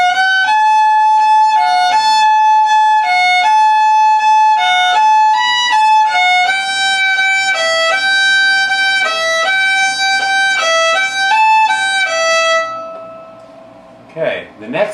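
Fiddle playing a run of the old-time tune Mississippi Sawyer with a shuffle bowing stroke, bright sustained notes in a steady lilting rhythm, close and loud, ending with a brief scrape of other sound.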